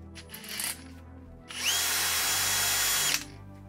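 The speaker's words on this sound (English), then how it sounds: "use the bolt in the drill chuck, spin that shit really fast," A power drill spins a roller skate wheel on a bolt against hand-held sandpaper, giving a loud, close, steady whine and abrasive rush for about two seconds. A shorter burst comes first, then the drill winds down.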